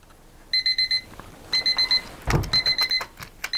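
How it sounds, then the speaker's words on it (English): A kitchen timer goes off during quilt cutting, bursts of rapid high electronic beeps repeating in groups about once a second, fairly close and clear over a quiet room. "And there goes my timer."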